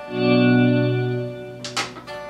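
An electric guitar chord swells in under a volume pedal with chorus and reverb effects, a sustained shimmering tone that rings out and tails off, then a few brief scratchy string noises.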